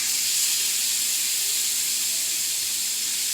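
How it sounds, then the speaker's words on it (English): A steady, bright sizzling hiss of catfish frying on a hot electric Foreman grill fills the scene without pause, with no voices present. "And sizzle, sizzle."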